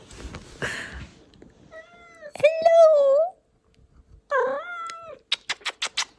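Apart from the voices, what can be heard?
cat meowing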